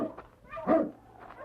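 Dog whimpers and gives a short bark in a snowy Yukon radio drama scene with sled huskies, a close, brief whine rising to one louder yelp then fading.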